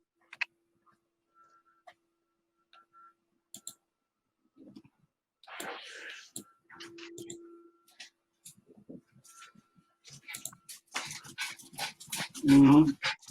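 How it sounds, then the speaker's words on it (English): Dogs whimper and click about in short, scattered bursts over a quiet background, building to a louder burst near the end, while people talk intermittently. "As soon as I come on, these dogs come on."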